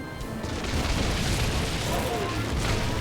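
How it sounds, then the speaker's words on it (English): Bombs explode in Orcs Must Die 2 as a dense, continuous rumble of booms and bursts, loud and close, with battle noise layered throughout. "Just send some bombs over preemptively."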